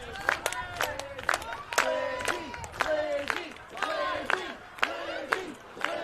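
Crowd at a live indie wrestling show in a brewery, clapping in rhythmic bursts and shouting chants, mixed with loud cheers and a commentator talking over the noise.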